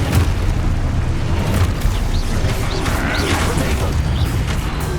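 Confringo blast spell in Hogwarts Legacy, heard as a dense, rumbling explosion that fills the whole five seconds, loud and continuous with crackling bursts over a heavy low roar.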